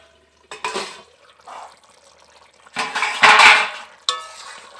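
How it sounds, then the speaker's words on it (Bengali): A pot lid lifted off simmering chicken rezala, giving close metallic clanks and scrapes with a soft bubbling, hissing wash between them, loud and uneven, with no talk. "এখন আমি ঢাকাটাকে আরেকটু খুলছি।"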